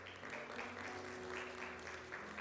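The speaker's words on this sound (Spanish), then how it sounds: "Dale un aplauso a Jesús." A church congregation applauds during an Easter resurrection service, a steady, continuous wash of clapping heard from a distance at low level, with soft background music underneath.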